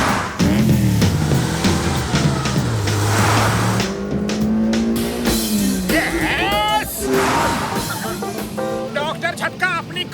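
Cartoon race cars in a Motu Patlu animated race whine and rev with rising and falling engine pitches, screeching tires and passing sweeps, while characters talk over the racing noise.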